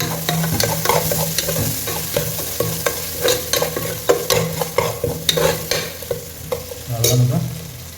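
Green chilies stirred into a frying mutton curry with bottle gourd and potato, a loud close sizzle with repeated scraping strokes of a spoon against the pan throughout, no talk.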